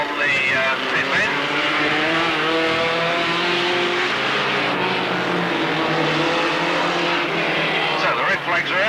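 Race cars pull away at the start of an afternoon race at Alwalton, a loud layered engine roar with rising and falling revs from several cars at once, while a commentator talks over the noise.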